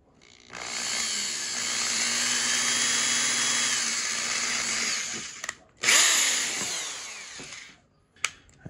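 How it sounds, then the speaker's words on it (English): A power drill runs steadily for about five seconds while boring a pilot hole through the middle of a part for a Ghostbusters proton pack kit. It stops briefly, then spins up loudly again before cutting off, with no one talking. "Take your drill, and much like the wand, we're going to start with a smaller one to drill a pilot hole through the middle."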